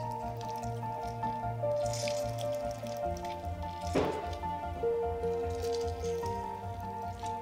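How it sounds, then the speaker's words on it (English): A halved lemon is squeezed by hand into guacamole, giving a brief wet squish and dribble near the middle over steady background music. "Now cut the lemon into half and squeeze the lemon juice in it."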